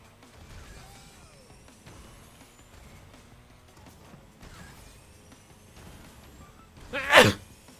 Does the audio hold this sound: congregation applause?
no